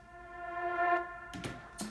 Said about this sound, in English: I turned off the dry and automated the reverb,